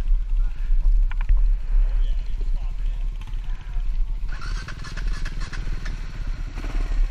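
A Kawasaki KLR650 motorcycle rumbles along on an adventure ride in Illinois, a steady low engine drone with clattering and wind noise rising toward the end, while a rider talks over it.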